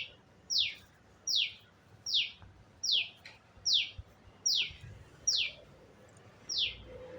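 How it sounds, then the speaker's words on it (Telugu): Crows caw in a steady, evenly spaced series of about eight short, sharp calls, moderately distant and faint against quiet outdoor background. "కాకులు అరుస్తున్నాయి"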